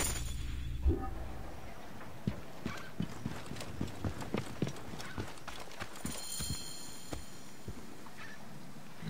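Horse hooves clip-clop in a steady galloping rhythm in the video game Assassin's Creed Origins, fairly close, with a brief whinny near the start and no talking.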